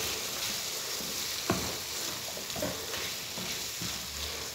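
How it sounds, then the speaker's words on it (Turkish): Diced chicken and onions sizzle in a frying pan while being stirred, a steady hiss of frying broken by a few soft scrapes and clicks of the utensil against the pan. "Şimdi güzelce karıştıracağım."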